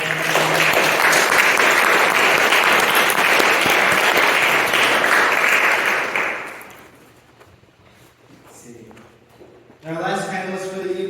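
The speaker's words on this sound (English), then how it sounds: "Please, round of applause." An audience at a poetry festival panel gives a poet a round of applause, loud sustained clapping for about six seconds that dies away into room quiet before a voice begins speaking.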